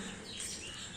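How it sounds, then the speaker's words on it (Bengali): Birds call and chirp outdoors on a cloudy morning near mango trees, a few faint high tweets rising over a steady wash of outdoor background noise, with no talking. "আর এদিকে পাখিগুলো ডাকছে।"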